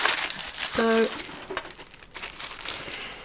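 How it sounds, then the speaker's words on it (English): Beautiful tissue paper crinkles and rustles as a Louis Vuitton box is unboxed, a steady papery texture running under a voice, with a brief tonal tap near the start. "it's got some beautiful tissue paper."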